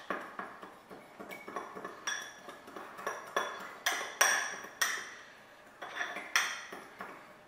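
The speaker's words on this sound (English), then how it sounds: "we're going to just kind of mix that all up together in this bowl first" A fork scrapes and clinks against a bowl while mixing a dry crumb topping of flour, sugar and cinnamon for blueberry orange muffins, in repeated, fairly quick stirring strokes, with close, moderately loud metallic taps.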